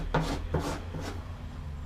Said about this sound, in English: they come with a lid with a hole in it, and that just screws on there